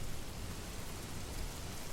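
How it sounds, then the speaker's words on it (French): Rain sound from the Noisely app plays as a dense, even hiss with a low rumbling undertone, loud and unbroken throughout. "ce que je préférais quand je mettais Noisely, quand j'utilisais Noisely, c'était vraiment la pluie"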